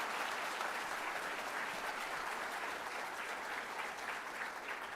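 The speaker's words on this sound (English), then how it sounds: "So we can give them all of a round of applause right now." Applause from an audience at a middle school eighth grade promotion night, a steady, continuous wash of many hands clapping that stays even and fairly distant throughout.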